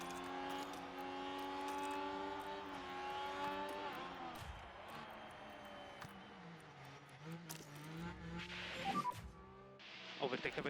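Formula 1 race cars launching from the start of the Canadian Grand Prix in the game F1 Manager 2024, engines whining and rising in pitch together under a commentator's voice.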